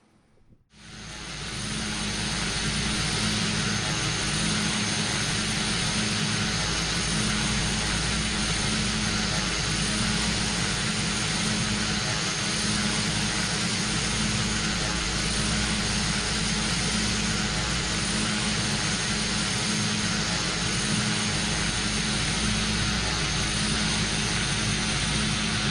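A Pilatus PC-12 turboprop engine in Flight Simulator X starts up sharply and then drones loud and constant, with a steady whine over a low rumble throughout.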